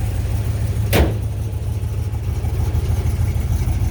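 A 1972 LeMans Sport GT convertible's 455 engine idles with a steady low rumble, a brief sharp click or tap briefly cutting through early on.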